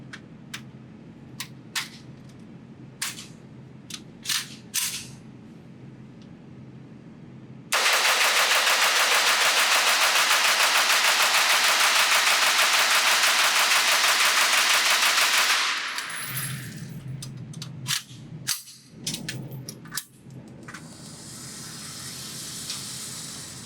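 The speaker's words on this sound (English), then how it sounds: "let's do the mag dump test, and hopefully I can dump one of these big 50-round mags really fast with no issue" Sustained rapid gunfire from an AR Five-Seven upper emptying a 50-round magazine at a range, one loud unbroken roar of about eight seconds, with quieter scattered shots and handling sounds before and after.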